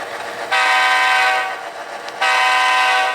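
Model GP7U diesel locomotives run on a layout, giving a steady bright tonal horn-like drone in two loud bursts separated by a softer lull.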